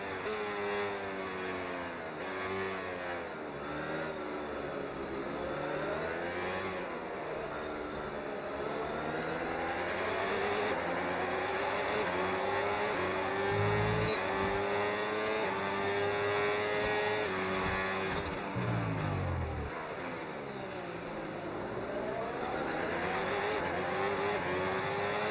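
Race car engines in a racing video game, in hybrid overtake mode: a continuous high-pitched engine whine rising and falling through the gears, steady and moderately loud, with no talking.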